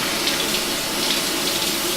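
Water runs steadily from a tap, a close, even splashing hiss with no pauses.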